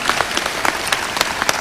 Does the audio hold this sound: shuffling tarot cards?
no